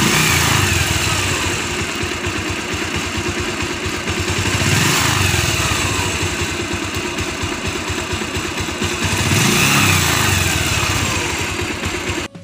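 A motorcycle engine runs after a carburetor cleaning, holding a steady, close idle and rising into two brief revs spaced several seconds apart.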